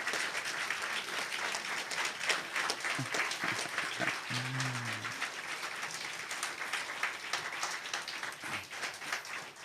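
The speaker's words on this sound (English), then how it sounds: "you could stand up and you could give them a hard and warm applause" Warm, sustained applause from an audience honoring award recipients at the High North Dialogue 2023 High North Hero ceremony, a dense steady patter of many hands filling the room throughout.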